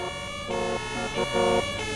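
A police car siren wails in the Roblox game Emergency Hamburg, a steady electronic tone cycling up and down in a regular rhythm, loud and close, with no talk over it.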